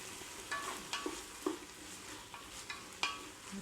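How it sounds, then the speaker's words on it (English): Onions frying in a pan for tortilla soup, giving a soft steady sizzle broken by several clinks and scrapes from stirring, close and moderately quiet, with no talking. "You do want to get these onions cooked enough so that they're nice and translucent."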